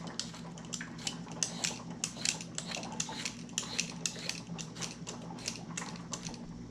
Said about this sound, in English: I'm going to show you how to slice this beet. So we will go to thinly, we will slice.